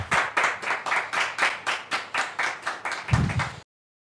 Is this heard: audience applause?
yes